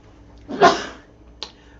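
A single sneeze bursts out at close range, a sharp breathy blast followed by a quieter short sniff or catch of breath.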